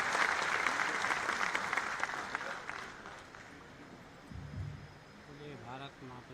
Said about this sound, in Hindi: माननीय मुख्यमंत्री जी का स्वागत करें,